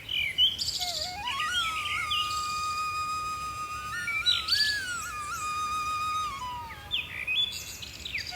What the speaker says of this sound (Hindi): यहाँ की सुबह घड़ी से नहीं, पक्षियों की आवाज से शुरू होती थी।